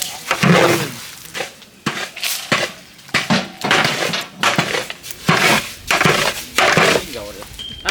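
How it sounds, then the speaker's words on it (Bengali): Rice fries in a pot over a village fire while it is stirred, scraped and clattered hard for hilsa pulao. Loud close metallic scrapes and knocks come in uneven bursts, with people talking underneath. "আর চালটা দিয়ে দিলাম চালটা ভাজিয়ে নেই"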